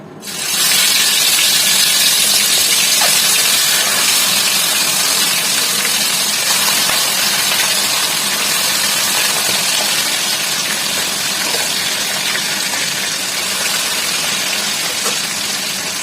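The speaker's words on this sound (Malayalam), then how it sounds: "ഇനി നമുക്ക് ഈ ചിക്കൻ ഇതിനകത്തിട്ട് വറുത്തെടുക്കാം." Chicken pieces for Chicken 65 frying in hot oil, a loud, steady, dense sizzle and hiss that starts abruptly and holds throughout, close up with no talking.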